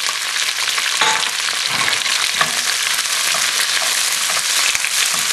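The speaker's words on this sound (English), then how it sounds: "the first vegetable is going into the oil." Raw strips of pasilla chili frying in hot oil, a steady dense sizzle with crackling pops and occasional stirring scrapes throughout, close and fairly loud, no talking.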